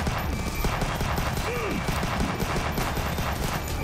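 Hand cannon gunfire from the side-scrolling shooter Huntdown during co-op play, heard as dense rapid bursts of shots layered with game music and effects, steady and loud throughout.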